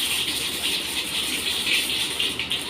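Mustard seeds hit hot oil while making dahi kadhi, giving a steady, fairly loud broadband sizzling hiss that holds evenly throughout with no voices.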